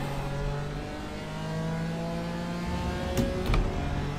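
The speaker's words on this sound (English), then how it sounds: "here we are then in the BMW M4 at Interlagos on iRacing" A BMW M4 race car in iRacing at Interlagos, its engine droning steadily with rising and falling revs, and a couple of sharp clicks near the end.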